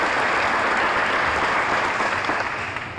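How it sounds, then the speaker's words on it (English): A banquet audience at the American Legion Teenager of the Year Awards in Terrebonne Parish applauds the nominees with dense, sustained clapping that tapers slightly near the end, with no talking over it. "Let's give all those nominees another round of applause."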